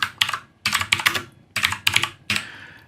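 Keys on a computer keyboard clatter up close in several quick bursts of typing, with brief pauses between the clusters of sharp taps and no voice.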